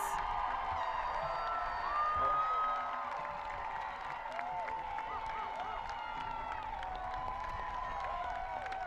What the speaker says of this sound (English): give the class of 2022 a big round of applause